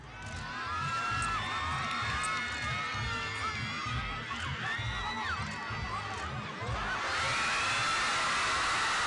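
Crowd cheering and whooping at an elephant football match during a festival in Nepal, a dense, steady roar of many voices that swells louder toward the end.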